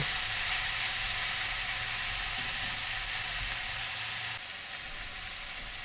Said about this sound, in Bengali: দিয়ে দিলাম সিদ্ধ করা কলার থোর চুলার তাপ একটু কমিয়ে নিব এবং মাঝে মাঝে নেড়ে চেড়ে নিব